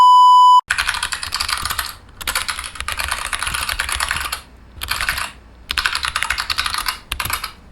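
Bursts of rapid laptop keyboard typing, close and clear, broken by short pauses, with a few soft electronic tones at the very start.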